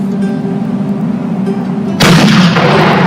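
Cannon fire effect from a toy pirate ship played out with LEGO: a steady rumbling background, then a sudden loud boom at about two seconds that stays dense and broad to the end.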